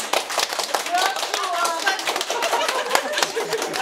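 Banquet guests at a wedding celebration applaud in a dense, steady patter of claps, with chatter and voices mixed through the crowd noise.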